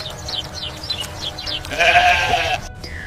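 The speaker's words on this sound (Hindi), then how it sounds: "देखो मैं कुर्बानी का बकरा ईद के लिए खरीद लाया हूँ" A sacrificial goat bought for Eid bleats in a few short, repeated calls, followed by a louder, sustained burst of bright noise near the end, with no talking.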